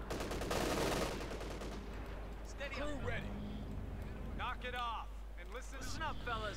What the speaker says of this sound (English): blasting some of those armies there with a righteous MG fire